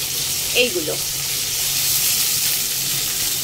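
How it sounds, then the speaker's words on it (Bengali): Carrots, beans and yardlong beans fry in hot white oil in a pan. They give a steady, bright sizzle with a short burst of crackle near the start. "তেলটা একটু গরম হতেই মা দিয়ে দিচ্ছে এই গাজর, বিন, বরবটি"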